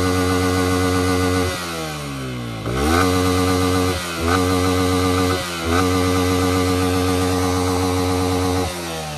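A Yamaha R15 v3 motorcycle exhaust revs hard again and again, several sharp rising and falling blasts over a loud, buzzy idle, close and unaccompanied by any talk.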